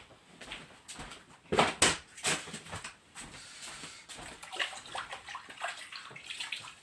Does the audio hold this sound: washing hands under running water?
yes